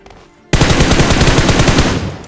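Loud automatic gunfire in a shooter game erupts after a half-second of quiet, a fast, even rattle of rounds that continues to the end.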